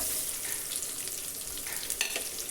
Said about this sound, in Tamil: வரமிளகாய் லேசாக வறுபட்ட உடனே ஒரு 2 வெங்காயம், பெரிய வெங்காயம் மெலிசாக அரிஞ்சு சேர்த்துக்குவோம்.